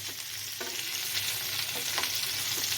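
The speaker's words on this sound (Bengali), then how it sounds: "তো আমি মাঝে মধ্যে এটাকে একটু ঘুরিয়ে ঘুরিয়ে দেবো যাতে লেগে না যায়।" Chicken filling for a cheese paratha cooks in a frying pan, sizzling steadily while a utensil stirs and scrapes through it in several distinct strokes, close and without talk.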